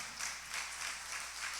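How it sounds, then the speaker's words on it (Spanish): A church congregation applauds in praise of the Lord, a steady wash of many hands clapping at moderate distance, even in level without pauses, no voices standing out. "Denle un aplauso al Señor, hermano."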